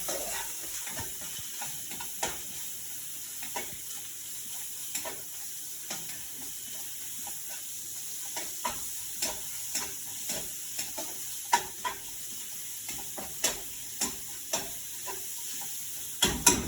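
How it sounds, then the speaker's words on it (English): Vegetables sizzle steadily in a pan during meal prep while a utensil stirs them. Regular scraping clicks grow more frequent over the constant frying hiss, with no voices. "Now you can add a little bit of your last portions of veggies"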